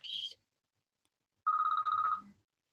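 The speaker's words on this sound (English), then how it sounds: "I'm getting a phone call." A phone rings with an incoming call: a brief high electronic chirp, a pause, then a longer pulsing warble tone, fairly faint and heard on its own.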